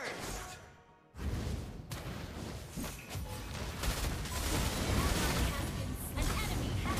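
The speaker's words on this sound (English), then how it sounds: "Lava burst." Lava Burst spell from a video game lands as a burst of crackling, crashing impact noise after a brief silence, with dense roaring debris sustained to the end.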